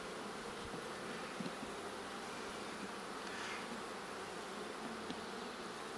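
Honeybees and drones hum around a pulled brood comb frame at an open hive, a dense continuous buzz that stays faint and even throughout.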